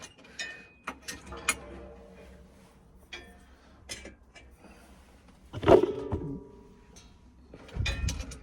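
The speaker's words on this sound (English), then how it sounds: "Spanner to tighten them up with." A spanner tightens parts on a 1964 Francis Barnett motorcycle engine in a workshop, producing scattered metallic clicks, ratcheting ticks and clanks at close range, with a heavier clatter near the middle and again at the end.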